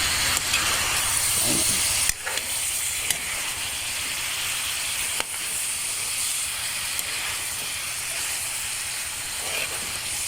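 Chicken cooks in a hot pan, giving a steady, loud hissing sizzle that runs the whole time, with a few faint clicks and pops breaking through.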